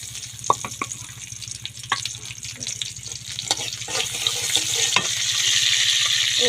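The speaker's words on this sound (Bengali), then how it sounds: "আমি এখন ডালটা বাগার দিয়ে নেব" Chopped garlic frying in oil to temper dal, a steady close sizzle with scattered stirring clicks and crackles, gradually growing louder and denser toward the end.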